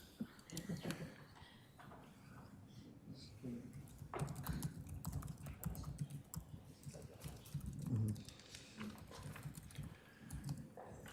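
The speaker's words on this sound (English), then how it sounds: "I'm typing it out furiously." Rapid, irregular clatter of fingers typing fast on a computer keyboard, a steady busy stream of key clicks at moderate distance in a quiet council chamber, with no talking over it.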